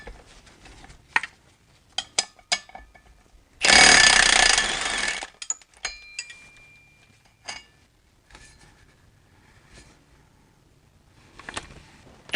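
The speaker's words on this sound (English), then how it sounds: "Just gonna use this swivel socket." A swivel socket wrench works on the hardware of a BMW E46 transmission during removal. Scattered metallic clicks and clinks lead into one loud burst of rapid ratcheting about a second long, then more sparse tool taps follow.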